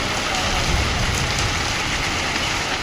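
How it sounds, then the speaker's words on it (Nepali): Heavy rain mixed with hailstones pours down in a dense, loud, unbroken roar of close drops and impacts, steady with no pauses. "देख रे भाई की वर्षा भयंकर वर्षा कुआपथर"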